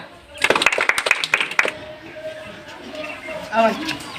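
Village crowd at a rural election gathering giving a short burst of clapping for the headman candidate, sharp distinct claps for about a second, then fading into murmur and a voice.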